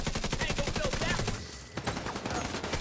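Video game gunfire: a fast, regular string of automatic shots, loud and close, pausing briefly midway before more bursts resume, with faint voices underneath.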